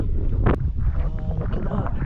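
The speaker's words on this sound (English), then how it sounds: "It's windy, windy." Wind gusts buffet the microphone on an open hillside in the Peak District, a low rumbling roar that holds steady throughout with one sharp brief knock.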